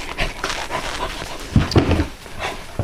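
Three 17-week-old male puppies panting steadily close by, quick rhythmic breaths with a louder burst of huffing midway, no talking.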